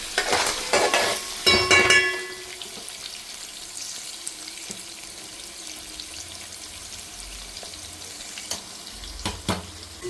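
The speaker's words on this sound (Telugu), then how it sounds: "ఆనియన్స్, పచ్చిమిర్చి కొంచెం ఫ్రై అవ్వాలి." Onions and green chillies frying in a pan, with a few bursts of spoon-stirring clatter at the start, then a soft, steady sizzle that carries on quietly with occasional small knocks.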